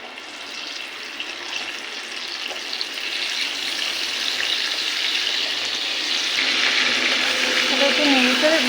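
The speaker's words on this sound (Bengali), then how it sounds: "তেলটা গরম হয়ে এলে এবার দিয়ে দেবো এই আদা, রসুন, কাঁচা লঙ্কা আর একটু পেঁয়াজ পেস্ট করে রেখেছি," A paste of ginger, garlic, green chili and onion hits hot oil, making a broad, rising hiss that grows louder and harsher toward the end, close-up with no talking.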